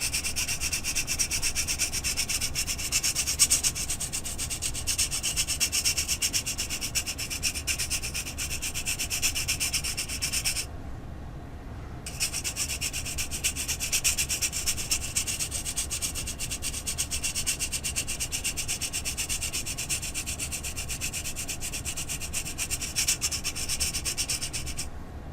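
A Cretacolor aquarelle pencil in Prussian blue is grated against a rough surface, giving a continuous close, dry rasping scrape that pauses briefly once before carrying on steadily.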